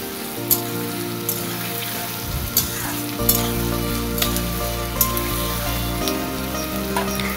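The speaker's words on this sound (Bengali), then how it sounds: "তারপর আদা কুচি দিয়ে দিব, দিয়ে একটু নাড়তে থাকব।" Chopped ginger fries and is stirred in a pan for a chicken dish, a steady loud sizzle with sharp spatula scrapes and clicks recurring every second or so, with no voices.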